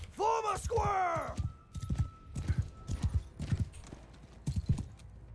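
Cavalry hooves clatter in the Mount & Blade II: Bannerlord video game, a horse whinnies loudly at the start, then rhythmic clip-clop hoofbeats continue with battle noise.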